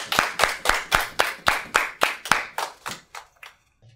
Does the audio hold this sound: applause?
yes